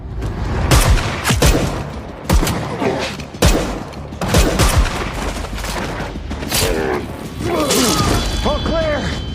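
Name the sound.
gunfire in an action film fight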